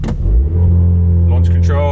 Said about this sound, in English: let's try a quick launch control